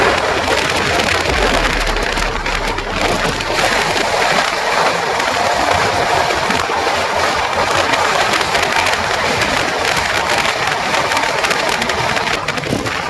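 Garib Rath Express from Agartala towards Kolkata running along the rails through Tripura, a steady loud rumble and rushing wash of wheels and wind that holds without a break for the whole stretch, with no talk.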